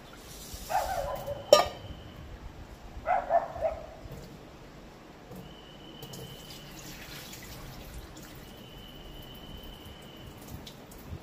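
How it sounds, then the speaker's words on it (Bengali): Rice being washed by hand in a bowl of water for pulao, heard as two short bursts of close splashing and sloshing with quieter dripping between and no talk. "তো চলো চালটা ভালো করে আগে ধুয়ে নেওয়া হলো।"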